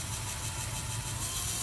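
A Giant M133S Plus electric scooter's motor runs at speed, a steady, fairly loud hum and whir with a broad hiss across the whole stretch and no talking.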